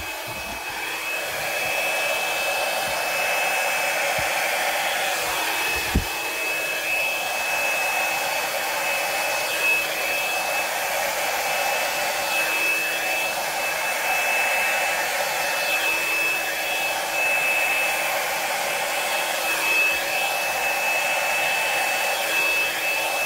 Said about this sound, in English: Now I'm going to get my bigger blow dryer because we got room to cover here.